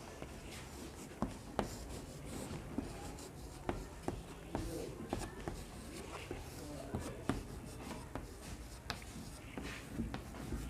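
Pen scratching steadily across paper, close and continuous with small tapping accents, under a soft background hum.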